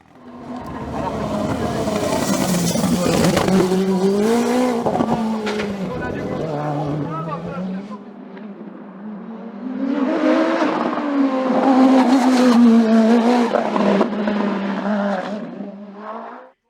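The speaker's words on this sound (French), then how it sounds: "Damien Chambéraud doit à nouveau se contenter à l'arrivée d'une deuxième position peu représentative de ses compétences sur sa Norma M20 FCE de SC Turbo" A Norma M20 FCE sports prototype with an SC Turbo engine races a hillclimb at Col Saint Pierre, Saint-Jean-du-Gard. Its engine roars close and loud, rising and falling in pitch through two sustained, hard-revving stretches with a brief dip between them.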